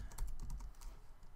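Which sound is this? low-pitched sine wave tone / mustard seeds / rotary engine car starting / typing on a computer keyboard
typing on a computer keyboard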